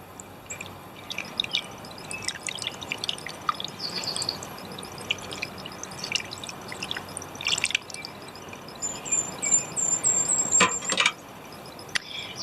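Water pours and drips into soil in small potted kitchen herbs, with soft splashing and trickling spread across the clip, plus a few brief sharp taps and chirpy background sounds.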